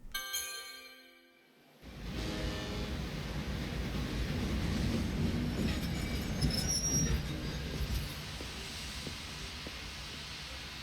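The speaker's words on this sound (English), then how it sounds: "Are you taking the train?" A train travelling in the video game Lightning Returns: Final Fantasy XIII, with a steady rumbling roll and some squealing wheels that start abruptly after a brief quiet opening and then continue loud and constant.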